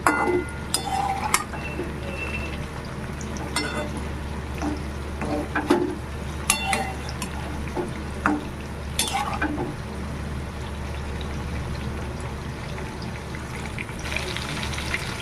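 Eggplant slices and egg frying in oil in a pan, with a steady close sizzle throughout and scattered scraping clicks as the pieces are stirred and turned.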